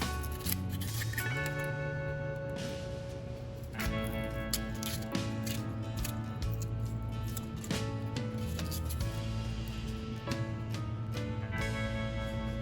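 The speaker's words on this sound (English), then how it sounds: "Rinse the peppers and remove the seeds and just cut them up into the cabbage." Red peppers are cut up over cabbage in a kitchen, with repeated close crisp snips and squishy cuts running continuously under a steady background hum, and no talking.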